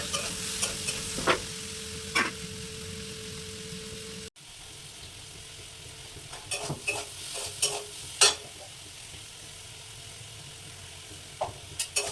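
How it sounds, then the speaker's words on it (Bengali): Potatoes being stir-fried with ginger, garlic and tomato give soft, intermittent scraping and stirring sounds over a low sizzle, with a few louder clinks of a spatula against the pan and quiet gaps between strokes. "আর এই যে এঁচোড়ের জন্যে আলুটাকে কষাচ্ছি আদা রসুন টমেটো দিয়ে।"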